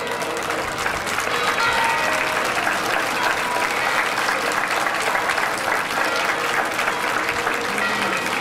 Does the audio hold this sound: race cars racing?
no